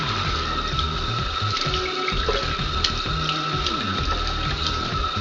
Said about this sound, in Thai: ก่อนอื่นเลยเราก็ต้องทำให้หน้าเรา เปียกชุ่มในน้ำก่อน